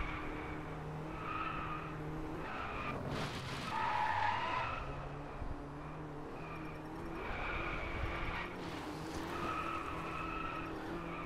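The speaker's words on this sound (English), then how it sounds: "This game is becoming a lot more fun now that I'm just using the e-brake all the time." Tires skid and squeal as a car slides under the handbrake in the racing game Driveclub, the screech swelling and fading over a steady engine drone, with no talking.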